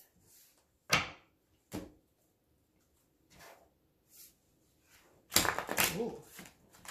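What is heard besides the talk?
shuffling tarot cards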